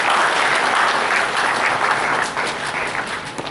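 Sustained applause fills a hall as an audience greets Dr. Aliyu A. Tanko, IIIT Central Nigeria Office coordinator, at a banking and finance workshop; dense, loud clapping that thins slightly toward the end.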